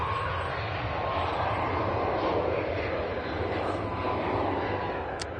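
Airliner departing Manchester Airport for Malta, a loud sustained jet engine roar that holds steady for the whole stretch with no talk.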